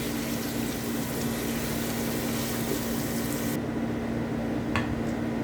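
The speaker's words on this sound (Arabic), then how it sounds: "بعد كده قمت حطيت الميه" Water poured into a pan over sautéing beef, onion and peppers with spices, a steady broad rush that fills the scene and cuts off abruptly partway, leaving a quieter hiss with a faint clink.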